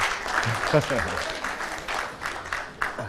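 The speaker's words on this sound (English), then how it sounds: "Everybody clapping for" Audience applause during a medical presentation, a scattered clapping wash that runs beneath a speaking voice, with a few louder claps near the end.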